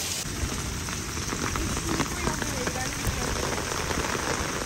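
Steady rain pattering on a surface, dense and close, with a faint murmur of voices underneath.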